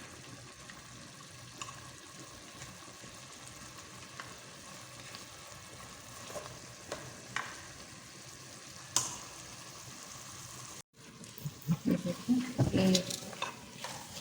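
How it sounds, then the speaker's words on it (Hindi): Spinach and mutton sautéing in a pan for spicy palak gosht, with steady soft sizzling, stirring scrapes and a few louder clatters of utensil against the pan near the end. "इसकी बुनाई करते हैं अच्छी तरह, पालक भी गल जाएगा बुनाई में।"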